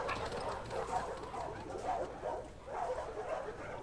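A dog in The Last of Us Part 2 whimpers and yips in soft repeated bursts over steady game background noise, fairly faint and with no clear talk.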